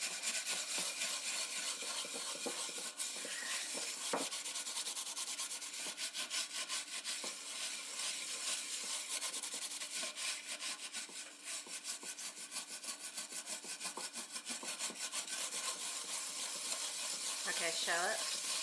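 A burned pot is scrubbed hard in continuous rapid rubbing strokes, a close, harsh abrasive rasp that runs almost unbroken throughout.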